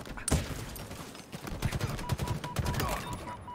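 Video game gunfire crackles in bursts: a sharp shot early, then rapid clusters of shots and a fusillade through the latter half, loud and fairly near.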